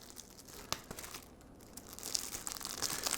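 Plastic packaging around a keyboard protector being pried open, quiet crinkling and tearing with scattered sharp crackles, close and alone.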